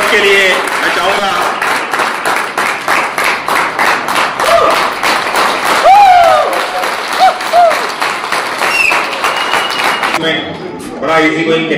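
Audience clapping at an award gathering honoring achievers, a dense run of applause with a few voices calling over it, then thinning near the end.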